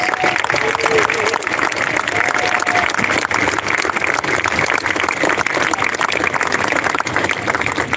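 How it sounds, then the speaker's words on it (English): Loud, continuous applause fills a high school graduation ceremony as students are called onto the stage. The thick clapping stays constant for eight seconds, with crowd voices mixed in. "Please give them a big round of applause"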